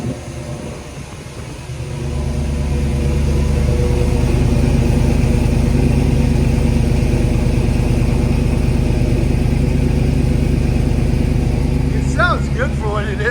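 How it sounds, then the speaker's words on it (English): A 1983 Jeep Scrambler with an LS-swapped 5.3L V8 cold-starts and settles into a loud, steady, deep exhaust rumble that holds close and constant, with brief voices near the end. "Here's the cold start on it"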